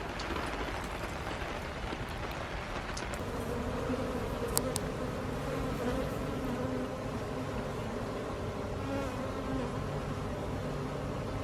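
Honeybee swarm buzzing on a rainy day as the bees move into a box, a dense, continuous hum filling the clip close by, with faint higher tones drifting through.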